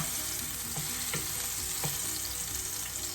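Plantain slices frying in hot oil in a pan, a steady bright sizzle and crackle with a few faint scrapes as pieces are turned, no talking.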